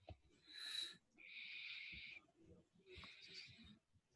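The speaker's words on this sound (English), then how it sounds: "stop breathing so loud" Loud breathing close to a microphone during an online calculus class: three long, hissing breaths in slow succession, airy and moderately faint, with no speech over them.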